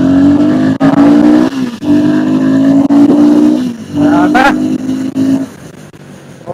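A Royal Enfield Guerrilla 450 motorcycle engine runs loud and close, revving in strong sustained pulls with short dips between them, the pitch climbing and falling.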